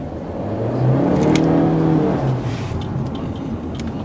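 A Honda Civic 10 EX or Touring engine rises briefly under a light tap of the throttle, a smooth hum swelling for about a second and settling back to a steady cabin drone, with no talking.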